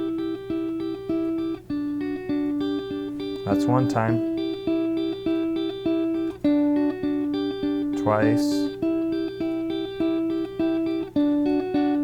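An electric guitar plays a riff at full speed. Clean, evenly paced picked notes repeat in a steady looping pattern, and someone briefly speaks twice over the playing.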